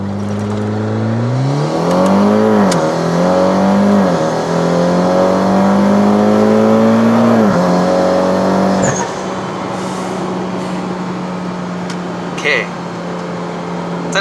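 Mitsubishi Lancer converted to EVO 10 launching from a stop and accelerating, heard from inside the car: engine climbs steeply through two or three gear changes with clear pitch drops, then settles to a steady cruising drone while a driver talks.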